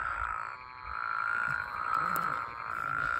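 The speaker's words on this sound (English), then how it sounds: "There's a woodhouse's toad calling here." A Woodhouse's toad gives a long, steady nasal trill in the Colorado countryside near Denver, the call sustained and moderately close, with a low rumble of wind or handling underneath and no talk.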